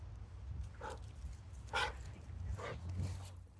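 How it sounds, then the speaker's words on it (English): Dogs give a few short, faint barks spaced out over a few seconds, somewhat distant, over a low background rumble. "Two more dogs."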